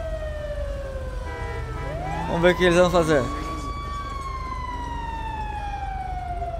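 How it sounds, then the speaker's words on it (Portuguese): A fire truck siren wails steadily in GTA 5 as firefighters arrive. A brief burst of warbling horn breaks in partway through, and someone speaks briefly over it. "Olha lá, os bombeiros, galera, chegando."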